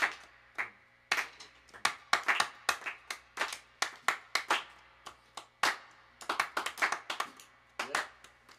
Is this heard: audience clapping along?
yes